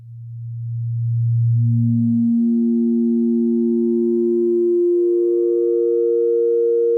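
Eurorack synthesizer oscillator running through a modulated wavetable, holding a clean sustained tone that steps up in pitch and keeps shifting in timbre as the time parameter is modulated, steady and alone with no voices.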